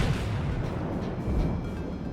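Main guns of a warship firing in the naval combat game World of Warships, heard as dense, continuous low-end booming and rumble with no clear separate shots, loud and steady throughout with no talk.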